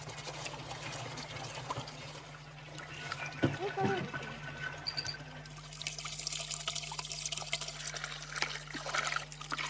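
Spring water trickling and splashing in the Rwenzori Mountains of Uganda, a continuous gentle flow under a steady low hum, with voices speaking over it.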